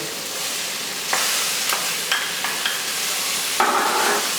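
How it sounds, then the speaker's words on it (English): Onions stir-fried over really high heat in a pan for a Caribbean dish, a constant loud sizzle broken by several sharp scraping and clattering strokes as the pan contents are tossed and kept moving, with no voices. "So we're just keeping this moving. Again, really high heat. Get those onions in."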